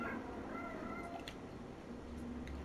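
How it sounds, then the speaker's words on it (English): A pet cat meows faintly a couple of times over a background hum, close but quiet. "my cat's meowing"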